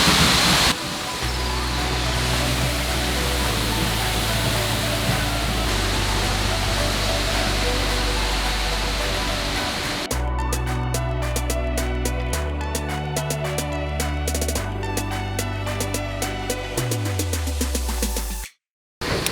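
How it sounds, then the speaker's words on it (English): A loud, continuous roar of rushing water from behind Seljalandsfoss waterfall in Iceland fills the whole stretch, dense and close, ending with an abrupt cut. "We are literally right behind the waterfall right now."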